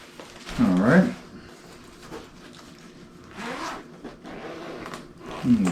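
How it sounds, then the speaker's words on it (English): Zipper on a headless guitar's padded gig bag with backpack shoulder straps pulled open in a couple of brisk, close scraping runs, with a softer zip pass midway and a last quick pull at the end. "The zipper on this bag feels better too than the last one"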